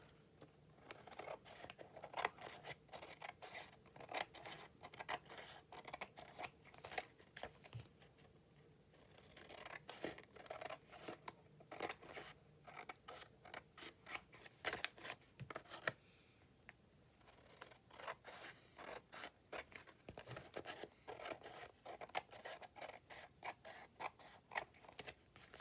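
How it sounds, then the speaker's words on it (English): Scissors trim the edges of a paper bag for a bag journal, a long run of quick, crisp, quiet snips and paper scratches with a couple of brief pauses. "Trim those edges again."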